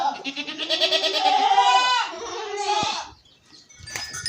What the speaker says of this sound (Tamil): எட்டையாவரத்து கொடி ஆடுங்க நம்ம ஊர் பள்ளையாடு இல்லை